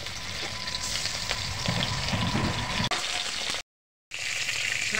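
Lata and tilapia fish frying in oil in a kadai, a dense, loud, continuous sizzle and crackle close by, broken by a brief sharp click and a short silent gap.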